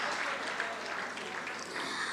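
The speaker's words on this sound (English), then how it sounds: "I want the applause to continue" Steady applause from a large crowd fills the clip, a dense continuous patter of clapping at moderate distance.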